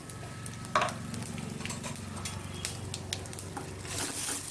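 Mustard seeds, cumin, a dried red chilli and asafoetida sizzle and crackle in hot oil while being tempered for thuthuvalai rasam, a steady close frying hiss with a few pops and a utensil clink.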